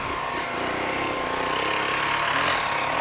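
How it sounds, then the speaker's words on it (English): A dirt bike with a bone-stock exhaust at a motorcycle club hill climb runs with a steady, fairly muted engine drone throughout, heard at moderate distance with no talk. "This bike here has to be the quietest bike of the day. Yep, it sounds like it's a bone stock exhaust."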